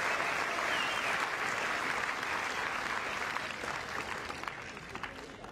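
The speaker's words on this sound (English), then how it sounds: "of all the applause he received there" Tennis crowd at a Zverev versus Carreno Busta match applauding after a great shot, steady dense clapping that fills the space and tapers slightly toward the end.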